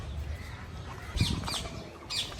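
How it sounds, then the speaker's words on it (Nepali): Parrots at a zoo give faint, distant squawks and chirps, a few short calls spaced out over quiet outdoor background noise. "यिनीहरू चाहिँ सुगा।"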